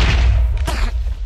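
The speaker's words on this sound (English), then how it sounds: "He got him with the super explosion." A loud, booming explosion from a Minecraft mini game blasts right away, followed by a couple of sharper bursts and thuds in quick succession.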